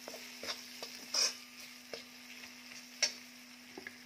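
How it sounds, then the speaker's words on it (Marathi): Beans tossed with Kolhapuri chutney masala in a pan give a quiet, steady sizzle, broken by a few sharp scraping and clinking strokes of a spatula against the pan. "चटणी टाकून म्हणजेच मसाला टाकून छान असं हे परतून घ्यायचं आहे."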